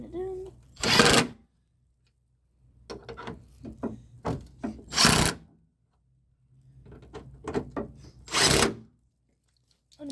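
Headlight fittings on a 2006 Dodge Caravan are tightened up close, with three loud, harsh ratcheting bursts separated by clusters of sharper clicks and knocks, and quiet gaps between them.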